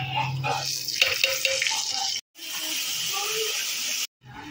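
Ground spice paste fries in hot oil for a chicken curry, giving a close, loud sizzling hiss that cuts out briefly twice, with someone talking over it.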